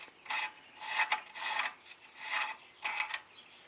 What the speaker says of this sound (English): just go ahead and break it off, and then just unscrew this